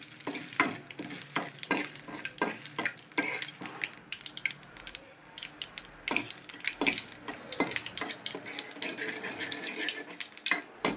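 Cumin and curry leaves fry and crackle in a hot pan, with frequent stirring clatter and sharp sizzling bursts, while water runs in the background.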